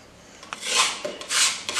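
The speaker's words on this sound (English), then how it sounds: "Because we can go over it then with the knife once we're finished again" A filling knife scrapes excess filler off a wall in a room being prepared for decorating, giving two or three close, gritty scraping strokes with short gaps; no talking.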